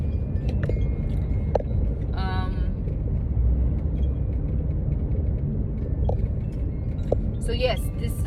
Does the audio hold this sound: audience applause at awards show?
no